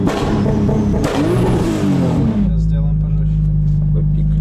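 Car engine revved hard with the gas floored, a loud roaring rise that settles into a steady, strong drone, with people talking over it.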